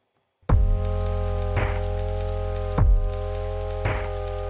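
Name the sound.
rain sound sample with sidechain compression in lofi music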